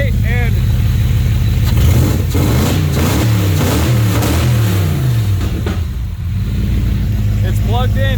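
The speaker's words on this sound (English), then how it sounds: "it's plugged in and it revs" A BMW E34 540i Touring V8 revs up strongly, rising and falling in pitch over a constant loud engine drone, with the blips close and forceful and a brief voice near the end.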